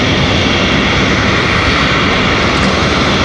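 An Air Canada airliner from Vancouver flies past near Raleigh-Durham airport, its engines giving a loud, steady, broadband roar that fills the whole stretch without letup.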